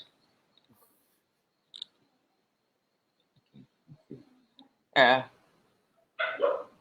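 A pet dog gives a few scattered yips and then two louder, drawn-out barks or howls near the end, with long quiet gaps between them in an otherwise silent room.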